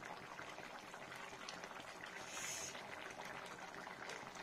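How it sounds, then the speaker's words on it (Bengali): A pot of curry with potatoes and cauliflower boils steadily, a continuous soft bubbling simmer heard alone and fairly quiet throughout. "ফুটুক আরো কিছুক্ষণ।"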